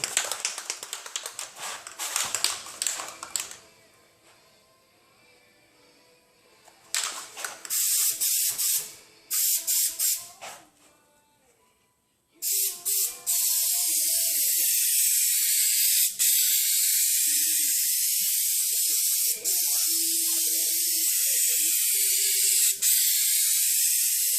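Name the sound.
spraying a second coat of aerosol paint from a can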